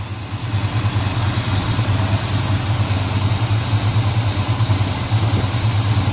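A 1987 Chevy Monte Carlo SS with a 454 V8, fresh water pump and fuel pump, idles alone in a garage with a steady, loud, low rumble and slight rhythmic loping.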